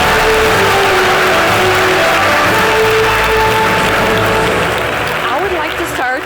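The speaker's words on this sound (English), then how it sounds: "Big round of applause." Audience applause for a panelist at a blockchain, AI and IoT tech conference panel, a steady wash of clapping filling the hall for several seconds, loud and continuous, with a voice speaking over it.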